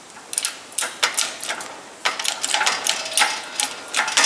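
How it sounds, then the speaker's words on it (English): Lexan sheet bending in a small press brake on a Harbor Freight 12-ton shop press: a close, uneven run of sharp creaks and clicks with brief pauses between them. "here we got a piece of Lexan in this little baby press brake"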